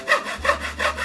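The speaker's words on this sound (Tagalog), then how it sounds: "Kaya yan, todo lagari ang person." Hand sawing through the wood of a shoe cabinet, three even rasping back-and-forth strokes close up, with no voices.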